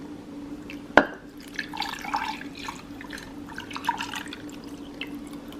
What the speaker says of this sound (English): about a half a cup of chicken stock. And we're gonna pour that down around the edges.